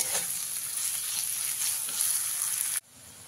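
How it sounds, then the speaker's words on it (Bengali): Chopped onions frying in a pan over medium flame, a steady broadband sizzle that runs evenly and then drops abruptly near the end, with no voices. "এবারে পেঁয়াজটাকে লাল করে ভেজে নিতে হবে।"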